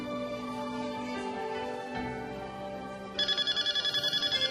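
A new cellphone rings with a repeated electronic tone pulsing loudly over background music and television show ambience, the ringtone becoming prominent and rhythmic toward the end.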